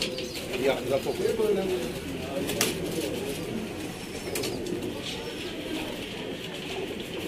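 A pair of Lakha pigeons coo in low, rolling murmurs with a few soft wing flaps, close by, while a voice talks faintly in the background.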